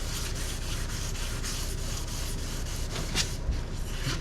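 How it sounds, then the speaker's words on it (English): Continuous rasping rub of a sanding sponge moving back and forth over varnished teak on a sailboat, close and steady in rhythmic strokes. "here's a sanding sponge, and just go over it quickly"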